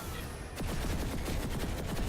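Rapid automatic gunfire in the video game Planetside 2 starts after a brief lull, a fast rattling stream of shots that stays loud and continuous to the end.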